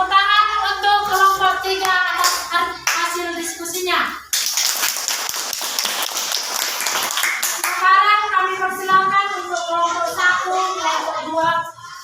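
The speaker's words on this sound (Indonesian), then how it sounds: "tepuk tangan untuk kelompok 3 atas hasil diskusinya" Classmates clap for group 3 after its discussion presentation in a classroom lesson, a few seconds of scattered applause set between stretches of children's voices talking.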